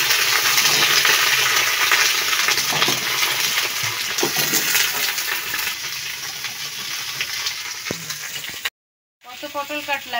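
Slices of pointed gourd (potol) fry in oil with a loud, busy sizzle and the odd clink of a utensil. The sizzle eases toward the end, followed by a brief cut and a short voiced sound.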